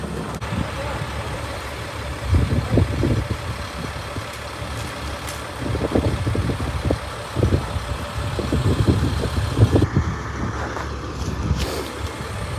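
A truck engine runs with a steady low rumble at a horse stables, continuing throughout while people talk nearby.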